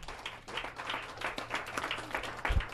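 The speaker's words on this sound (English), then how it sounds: "give a round of applause for grandkids." Steady applause from an audience, a dense crackle of many hands clapping, fairly close and sustained throughout.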